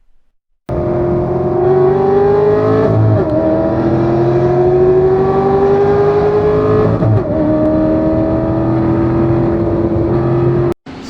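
A bone-stock Chevrolet Corvette C7 V8 revving hard, loud and close, rising in pitch through several sweeps with brief dips between, then cutting off abruptly near the end.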